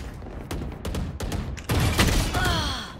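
Rapid gunfire in the Valorant shooter game, first a quick series of sharp shots, then a louder, denser burst of fire with ringing tails, close and punchy, with no talk over it.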